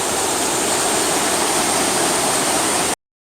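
Water pours steadily over a dam on the Windsor Locks Canal, a loud, unbroken roar of falling water that cuts off abruptly near the end.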